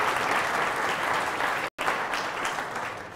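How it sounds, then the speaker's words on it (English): A conference audience at a closing plenary bursts into steady, sustained applause, broad and even, with a brief dropout partway through before the clapping resumes and slowly tapers. "I heard applause."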